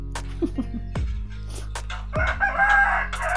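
Backyard chickens cluck while a rooster crows loudly and close by in a rural Philippine yard, the calls arriving in short repeated bursts.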